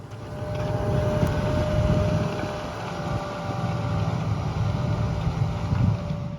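Tractor pulling a plough in a field at low revs, a steady low engine drone with a rough rumbling texture, moderately close, with wind noise over the microphone and no voices.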